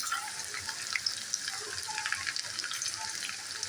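Onion tipped into a pan with garlic in medium-hot oil sizzles and crackles softly and steadily, a faint continuous hiss with small pops and no talking.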